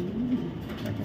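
Soft, low cooing from a racing pigeon close at hand: a short burbling phrase that rises and fades over a faint room hum, no voices.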